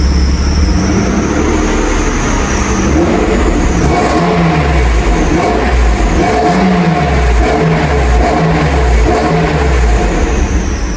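Mercedes-Benz SL600 V12 engine revs with the hood open, a loud, close series of deep rising and falling throttle blips over a steady idle rumble.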